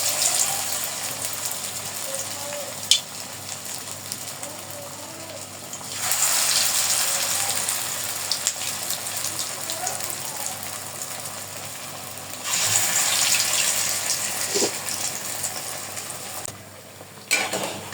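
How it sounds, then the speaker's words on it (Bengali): Colocasia leaf fritters (bora) fry in hot oil in a home kitchen, a broad steady sizzle that swells in two long bursts as fritters go in, over a quieter background hiss. "গরম হলে বড়াগুলো এখন ভেজে নিব এক এক করে"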